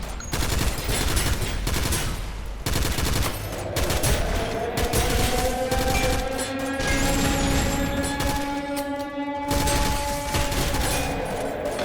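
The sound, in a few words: LMG machine gun firing in video game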